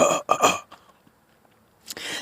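A man clears his throat up close in two quick, rough bursts, then falls silent before a faint breathy sound at the end.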